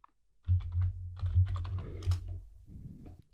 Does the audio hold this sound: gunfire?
no